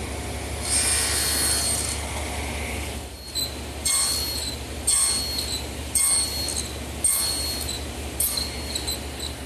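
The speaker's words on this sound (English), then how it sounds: "I'll remove the rest of the material by a process called nibbling" A table saw nibbles away wood for a tenon shoulder, a steady loud whirring hum with high screeching bursts that repeat about every second as the blade takes each pass, with no voices.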